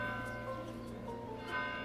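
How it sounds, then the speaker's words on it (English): A bell chimes in House Flipper 2, soft ringing tones with a sustained hum, fairly faint and close, a couple of brighter strikes standing out near the start and end. "there's a bell going off."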